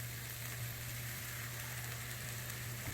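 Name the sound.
stir-frying glass noodles with water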